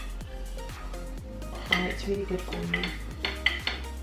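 A spoon clinks repeatedly against a container and blender jar while spirulina powder is added for a green smoothie, making sharp, close metallic taps in an irregular rhythm as someone talks briefly.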